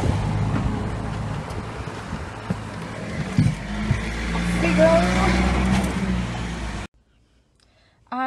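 Car interior while driving, a steady low engine and road rumble with wind noise throughout, people talking over it, then an abrupt drop to near silence near the end.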